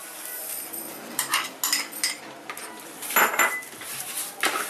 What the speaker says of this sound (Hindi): थोड़ा स्पून से चलाएंगे